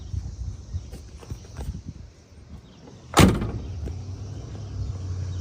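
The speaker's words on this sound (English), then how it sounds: "Doors open nicely, open really nicely. And they close nicely." A Corvette car door shuts with a single sharp, close thump after several seconds of softer handling and rustling, followed by a low background rumble.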